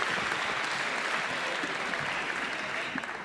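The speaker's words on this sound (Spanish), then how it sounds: "Un aplauso fuerte para estos dos titanes." Applause fills the hall at a national canoeing awards gala, a steady dense wash of clapping from a large audience, heard at a moderate distance and holding evenly throughout with no voices above it.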